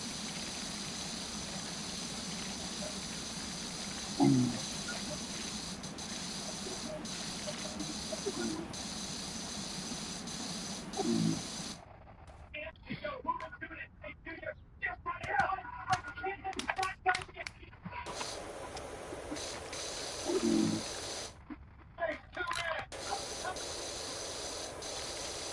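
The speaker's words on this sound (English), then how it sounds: "See if the turbo nozzle will work." A turbo nozzle on a pressure washer sprays in steady hissing bursts during outdoor town cleanup, cutting in and out several times with brief gaps, while someone speaks faintly in between.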